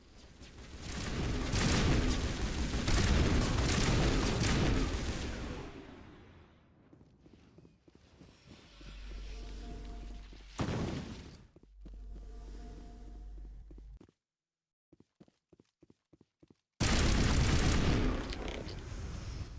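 Weapon fire with high explosive rounds in the sci-fi shooter Mass Effect Legendary Edition: loud bursts of shooting and heavy blasts, separated by quieter stretches, short sharp clicks and a final loud burst.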